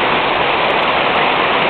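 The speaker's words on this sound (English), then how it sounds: "There's the waterfall up to there." A waterfall at the head of a river roars in a loud, steady, unbroken hiss of falling water, close and continuous with no other sounds.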